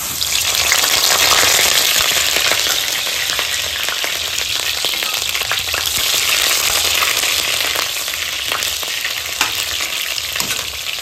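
Onions sizzling and frying in hot oil in a pan as the first step of a home-style mutton biryani made with Gobindobhog rice, a steady loud crackle throughout with occasional stirring scrapes and no talking.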